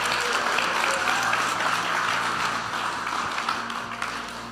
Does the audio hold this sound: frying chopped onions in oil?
no